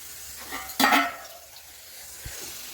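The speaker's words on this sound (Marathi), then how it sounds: "तर चला म्हणजे बघा आपली बिर्याणी छान फोडणी दिली." Biryani tempering (phodni) in hot oil with a short, bright sizzle burst near the start, then a soft fading fry hiss and a faint utensil clink, no talking.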